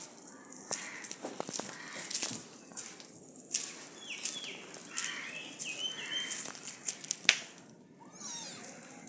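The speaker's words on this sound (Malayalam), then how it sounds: "ഒരു പൂച്ച കരയുന്നു." Kittens, including a black one, meow in short repeated cries at close range over a steady background, with a few brief rustles and a sharper bird-like chirp mixed in.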